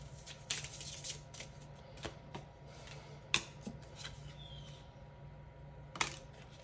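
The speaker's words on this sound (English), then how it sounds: "I just want to get a couple more cards out first." Oracle cards are drawn and handled from a deck, giving soft faint riffles and a few sharp little snaps and taps over a quiet room hum.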